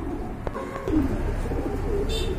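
Soft, low cooing from a pair of Rajgolla pigeons close by, repeated a few times over a steady background hum.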